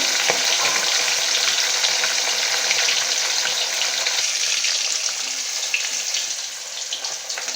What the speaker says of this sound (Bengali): দেখুন আমার মাছগুলো বহু ভাজা হয়ে গেছে এইভাবে হালকা করে ভেজে নেবেন